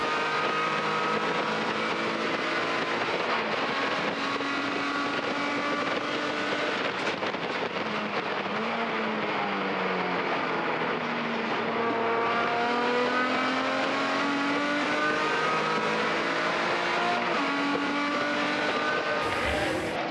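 A BMW and other race cars lapping the CARCO.com.au Raceway circuit in the WA Sporting Car Club 100K Cup, engines droning and shifting pitch as they rise and fall through gears, loud and continuous.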